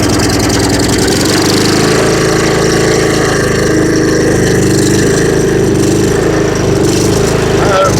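A Yard Machines riding mower engine that had trouble starting runs on choke, a loud steady close-up drone with rough, uneven running throughout.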